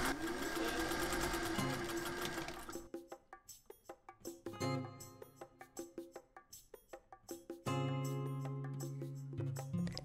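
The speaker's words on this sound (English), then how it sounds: "Then this time I sewed with 1/4 inch seam allowance." A sewing machine stitches a quarter-inch seam on a beanie hat in several bursts. It runs fast and continuous at first, then in short stop-start pulses, then steadily again, close and clear with no talking.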